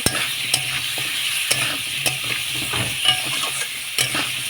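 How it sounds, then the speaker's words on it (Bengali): Chopped bottle gourd frying in a pan with turmeric and salt, a continuous close sizzle punctuated by repeated scraping strokes of a spatula as it is stirred. "লাউগুলো ভাজা ভাজা হয়ে এসছে।"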